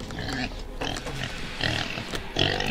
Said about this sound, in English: Alright, come get me, pig.